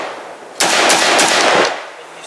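A burst of rapid .308 rifle gunshots from a Molot VEPR AK-pattern rifle at an outdoor range, loud and close, followed by a brief fading echo.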